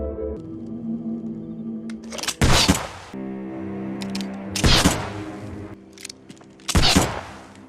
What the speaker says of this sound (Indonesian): Bahkan dia menantang MIB untuk adu ketangkasan menembak.